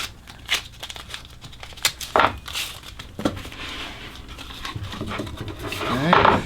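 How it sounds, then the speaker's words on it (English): Tape is pulled and pressed onto an oak workpiece for a step-stool, making close crinkling, brief tearing rips and scattered soft taps in uneven bursts. "Let's just tape that down real quick."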